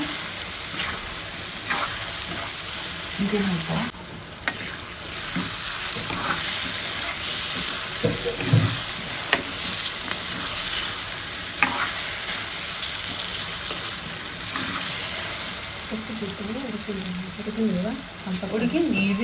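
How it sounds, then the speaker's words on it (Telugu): Bottle gourd fries in a pan with a steady sizzle, stirred by a utensil that scrapes and clicks against the metal, while soft voices murmur intermittently in the background. "సొరకాయ ఫ్రై అయితే అయిపోయింది"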